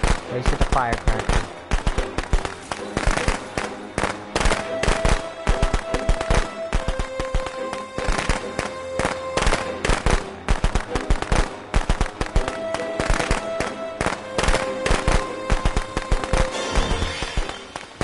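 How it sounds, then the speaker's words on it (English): Firecracker pops from Friday the 13th: The Game, a dense, loud string of sharp rapid cracks in irregular bursts, like a string of firecrackers going off nearby over in-game music. "Place the firecracker."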